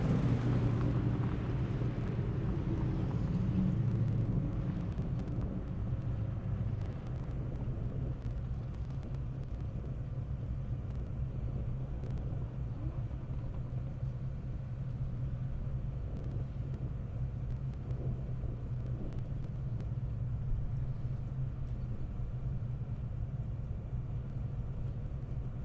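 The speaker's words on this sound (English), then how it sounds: "Great shot of that Audi R8." An Audi R8 runs at an airstrip speed event, a continuous low engine rumble and road roar that stays steady throughout, somewhat distant.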